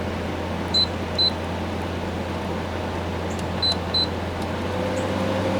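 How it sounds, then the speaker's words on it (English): The interior fan of a GE AHQ06LYC 6000 BTU window air conditioner runs on high, a steady close broadband whoosh with a low hum, broken by a few short electronic beeps. "now that's the true high fan speed. Now that interior fan does get a little bit annoying on high."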